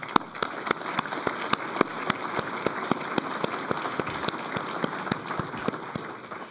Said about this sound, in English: give your colleagues a big round of applause